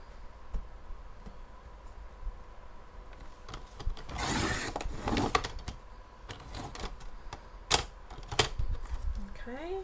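A paper trimmer slices strips of paper in a crafting setup, giving a series of short, sharp rasping cuts and clicks in bursts, close by, with quiet pauses between them.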